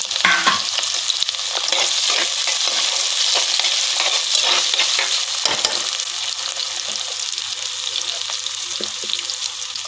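Chopped onions and green chillies hiss and sizzle loudly in a hot pan, with scraping stirs breaking through the steady frying noise and no voices.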